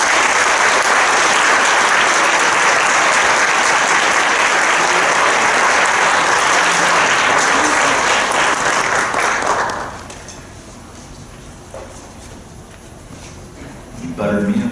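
A large audience applauds steadily to welcome speaker Kevin Briggs. The dense clapping stays loud for about ten seconds, then dies away into a quieter room.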